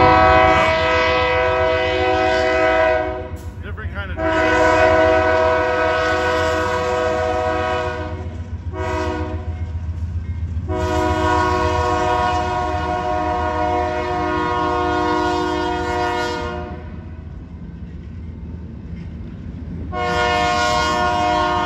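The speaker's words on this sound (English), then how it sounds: "So I do hear Amtrak coming in here." An Amtrak train passes with its horn sounding in several long loud blasts separated by short gaps, over a steady rumble of the train rolling by, no voices.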